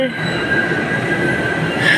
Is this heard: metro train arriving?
yes